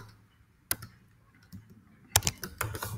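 Product details are typed on a computer keyboard, with a few scattered soft key clicks followed by a quicker cluster of taps, all close and quiet.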